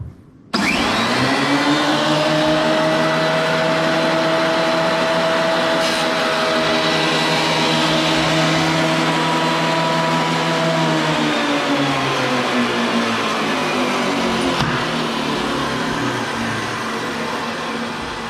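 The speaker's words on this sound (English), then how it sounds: "Now we're ready to do our planing." A wood planer runs steadily in a school wood shop, planing a board, its loud continuous motor roar and whine sustained throughout with a slight shift in tone partway as the cut proceeds.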